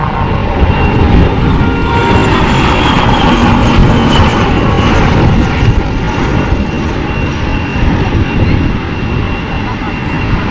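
HAL Light Combat Helicopter diving and flying past at an aero show, a loud, steady rotor-and-engine roar that fills the whole stretch, with a voice faintly underneath.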